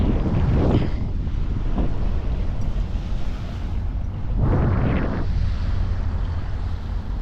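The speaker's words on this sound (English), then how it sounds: "it's basically just a water taxi" Water taxi boat, known locally as the Aqua Bus, running between spots around an island, with steady wind buffeting the microphone over engine rumble and a couple of louder surges as the hull slaps across waves.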